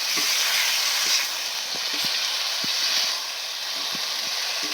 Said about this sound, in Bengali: এবার ভেজে রেখে দেওয়া লাইট কোপ্তাগুলোকে দিয়ে দেবো দিয়ে সঙ্গে একটুখানি ভালো করে নাড়াচাড়া করে নেবো